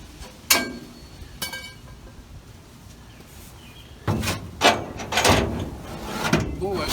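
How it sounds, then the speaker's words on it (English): The door of a 1936 Chevy coupe, being test fitted with seats and steering, swings shut with a few sharp thuds and clunks among quieter handling noises. "And I also need to be able to close the door"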